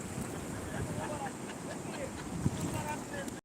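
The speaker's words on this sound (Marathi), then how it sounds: "हा चांदी नदीला आलेला पूर आहे" Floodwater of the Chandani river rushing past fields and washed-out roads, a broad continuous roar mixed with gusting wind buffeting the microphone, steady and loud throughout.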